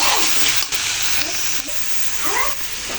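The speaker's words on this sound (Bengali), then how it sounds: "আর এখানে পাতাকপিটা আমার হচ্ছে, একটু ভাজা ভাজা করে নিচ্ছি" Shredded cabbage fries in a pan for a home-cooked lunch of taki fish, giving a loud, continuous sizzle with occasional stirring scrapes and faint talk underneath.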